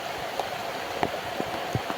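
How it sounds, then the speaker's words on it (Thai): Rain falls on a rubber-tapping plantation, making a faint, steady patter with scattered individual drops landing nearby. "ฝนมาเลย"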